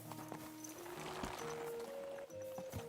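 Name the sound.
horse hooves clip-clopping in a video game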